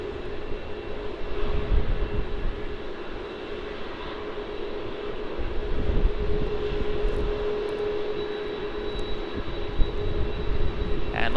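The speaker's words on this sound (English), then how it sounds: "This is going to be Qantas flight QF401 from Sydney." A Qantas jet airliner, flight from Sydney, arriving at Melbourne Airport, a steady loud engine roar that swells and fades slightly, heard from the ground with no talk.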